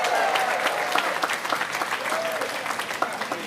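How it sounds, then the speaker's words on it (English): An audience at a Caribbean American event at Gracie Mansion claps in sustained, dense applause, with a few louder individual claps and faint voices underneath. "Can we give them a big round of applause too"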